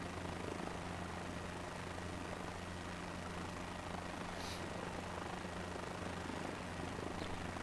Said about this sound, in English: that's the thing with the H125s or whatever it is, the Bell with the turbine engine